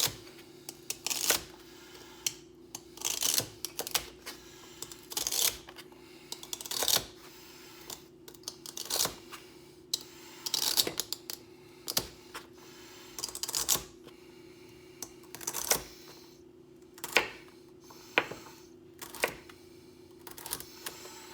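A kitchen knife chops celery on a cutting board in a series of sharp, close taps, coming in irregular bursts with short pauses between them.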